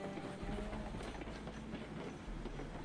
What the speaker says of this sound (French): c'est vraiment juste rouler le train